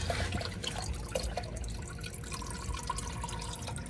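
Engine oil draining from a 6th-generation Camaro SS during an oil change at home, a steady liquid trickle and dripping heard close up over a dense background wash.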